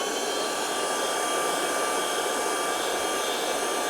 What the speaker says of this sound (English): If you want a good vac, I can recommend this one